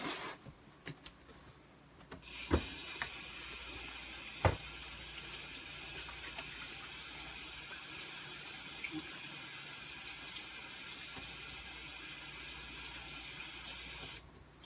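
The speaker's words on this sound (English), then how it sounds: "So I am going to wash my hands just to be on the safe side." Running water from a kitchen sink tap as hands are washed, a steady close hiss after a few knocks at the start, ending abruptly when the tap shuts off.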